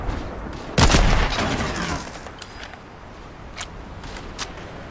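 Fortnite gunfire: a loud close burst of shots lands early, then sharp, fainter distant shots crack intermittently over a continuous noisy background.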